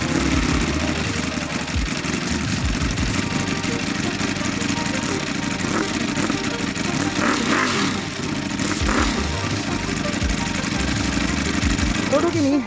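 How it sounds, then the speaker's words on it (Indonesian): A loud, throaty Ducati 1103cc V4 motorcycle engine rumbles steadily through a special exhaust, idling with a few revs, while a person talks over it. "kira-kira suara mesin V4 1103cc yang disalurin lewat knalpot khusus"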